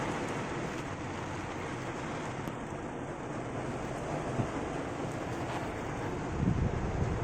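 Constant dense hiss of rain mixed with gusty wind noise on the microphone, steady throughout with no voices.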